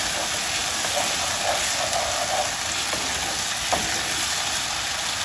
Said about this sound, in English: Now I'm going to throw in the curry leaves and the green chilies and just mix everything